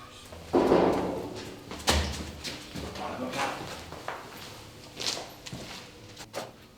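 A door is pushed shut in a quiet room with a solid thud, followed by a second knock and several softer bumps and shuffles of movement nearby.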